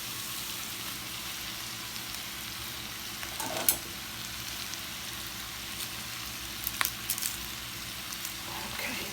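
Cabbage fries in a pan with a soft, steady sizzle and light crackling, close but fairly quiet, broken by a few louder clinks and stirring sounds.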